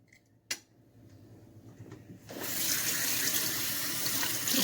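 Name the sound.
tap water rinsing seeds out of a pepper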